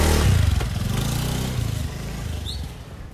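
A motorcycle engine revs close by, a loud rough low throttle burst that eases off into a steadier idle-like rumble with some clatter, with no talk over it.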